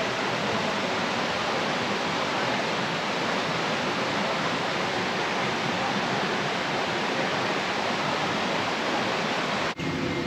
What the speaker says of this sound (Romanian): Din capăt curge apa, din capătul acestui tunel unde merge Marius acum.